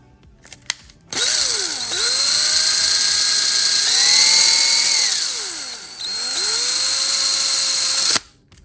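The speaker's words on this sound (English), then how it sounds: "Take the drill. Let's make sure this hole's in there. We're gonna go slow." A power drill boring a hole in a Ford Mustang body panel, a loud steady whine held for about seven seconds that dips in pitch twice as the bit bites and then rises again before cutting off, with no talk.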